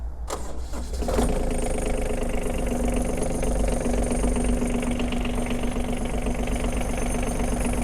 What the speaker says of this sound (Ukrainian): далі ми витискаємо щеплення і заводимо трактор